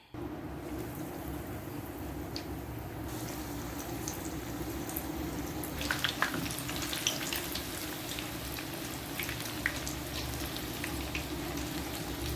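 Potato cheese balls frying in a pan of hot oil, a steady close sizzle and crackle running throughout with brief bursts of spatter, no talking.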